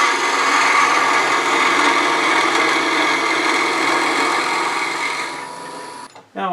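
A wooden Easter egg spins on a wood lathe while a tool shapes a large bead, making a loud, continuous scraping hiss that holds steady, then cuts off abruptly just before the end.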